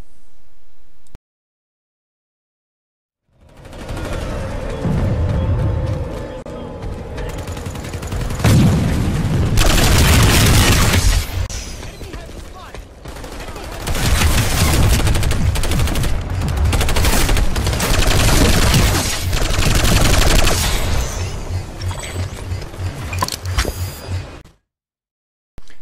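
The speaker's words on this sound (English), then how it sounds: "This weapon's fire rate comes at a very nice 698 rounds per minute" Long sustained bursts of automatic fire from the Pulsar LSW light machine gun in the Planetside 2 video game, loud and dense with booming impacts, broken by brief pauses, with no voices.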